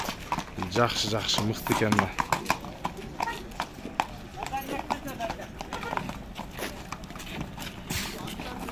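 Horses' hooves clip-clop at a crowded horse market in Sokuluk, Chüy, with irregular nearby hoof strikes and someone talking over them.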